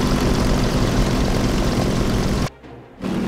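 A propeller dive bomber's engine in the War Thunder combat flight game drones loud and steady, then cuts out briefly before roaring back near the end.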